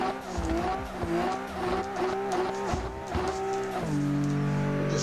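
A 404 bhp Toyota JZX90 drift car running in third gear on an icy track: the engine revs rise and fall in repeated surges with tire squeal, then settles into a held high note near the end, loud and close.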